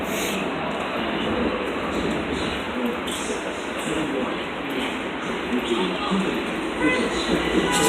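A delayed LIRR train pulls into New Hyde Park station, a continuous broad rumble and rushing roar that stays fairly loud and steady throughout, with people talking nearby.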